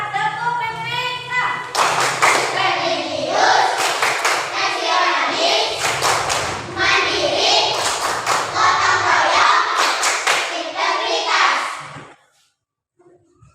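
A classroom of children chants a rhythmic PPK clap routine in Indonesian, sharp hand claps landing in quick repeated patterns between shouted words, with loud group voices throughout until it stops abruptly.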